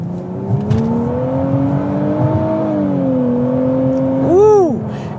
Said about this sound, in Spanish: ¡Qué bien acelera, qué bárbaro!